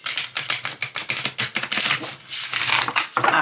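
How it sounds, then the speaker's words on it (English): Thick medium-to-heavyweight oracle cards riffle-shuffled up close, a run of a dozen or so sharp, crisp flutters and card-slap bursts in quick rhythm, ending in a denser cascade, with no talk. "I'm going to try to do the riffle shuffle"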